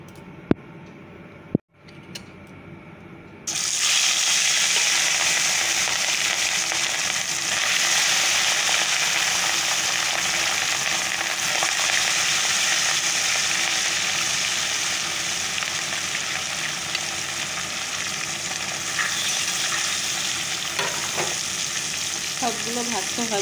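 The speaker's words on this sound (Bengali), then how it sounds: "যে কয়টা পারি ভেজে রেখে যাই, পরে লাঞ্চে এসে দেখবো।" Fish frying in a pan sizzles loudly and steadily after a quiet start, a dense continuous hiss with occasional small pops and crackles, close and alone without talk.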